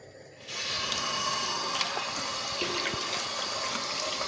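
Tap water runs steadily into a sink to soak raw tuna fish before cleaning, a constant close splashing stream that starts abruptly after a brief quieter moment and continues unbroken.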